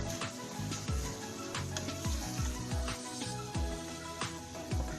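Fried bitter gourd being stirred into masala and yogurt in a pan, with steady sizzling and repeated scraping spoon strokes throughout, close and clear with no talk.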